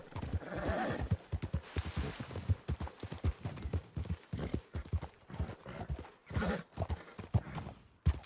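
A horse trotting in the video game Red Dead Redemption 2, with a rapid, even clip-clop of hooves close by and a brief whinny near the start.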